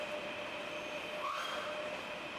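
A Trans-Siberian Railway train at its Vladivostok terminus gives off a steady mechanical hum with a faint high metallic squeal rising briefly, moderately loud and continuous with no voices.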